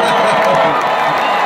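A concert audience at a performance claps and cheers in a dense, steady roar that fills the whole stretch, loud and close with no pauses.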